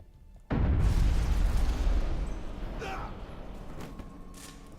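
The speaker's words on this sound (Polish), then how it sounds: "Jakiś pocieszny wybuch." A booming explosion in the video game Aliens: Colonial Marines hits suddenly and loudly, then rumbles and fades over several seconds.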